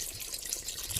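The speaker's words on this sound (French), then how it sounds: "Maintenant nous allons rajouter notre vin blanc." White wine is poured into a cooking pot while making poulet basquaise. A brief, quiet liquid trickle and splash is heard close by.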